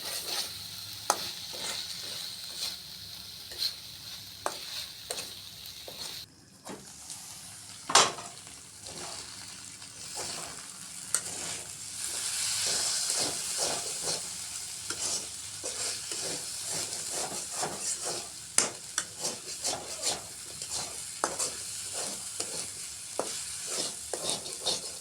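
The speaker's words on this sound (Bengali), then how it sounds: "দেখেন আমার ভাবির আলু ভাজি" Potatoes fry in a pan with a continuous sizzle, broken throughout by frequent sharp scrapes and taps of a utensil stirring them, close and fairly quiet with no speech.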